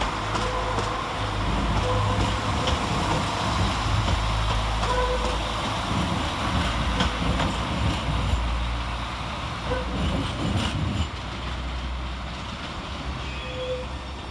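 A Northern class 195 diesel multiple unit pulls out of Manchester Oxford Road station with a steady, loud engine rumble and rolling noise that fades a little toward the end.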